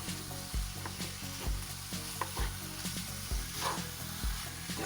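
Cream cheese and salsa stirred in a sizzling pan for vegan enchiladas, with repeated rhythmic spoon knocks and scrapes over a continuous close fry, no voices.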